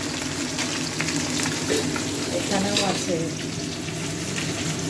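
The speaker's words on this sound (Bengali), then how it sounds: "এখানে মাছ ভাজা চলছে লাল লাল করে।" Fish such as tilapia, katla and bhola frying in oil at a market stall, a loud continuous sizzle with stirring and a brief voice speaking over it.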